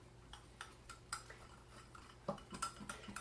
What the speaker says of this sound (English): we're just going to stir it and get the lumps out